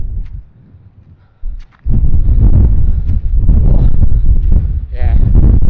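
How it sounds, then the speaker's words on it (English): Strong wind buffets the microphone on an exposed Blue Mountains lookout at sunset, a loud, continuous low roar that swells after a brief quieter opening. "it is just so windy"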